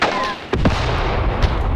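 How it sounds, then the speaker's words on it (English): Mortar fire in the Graviteam Tactics war game, heard as a few loud, close thumping blasts in quick succession over a noisy battlefield background. "mortars are getting involved too"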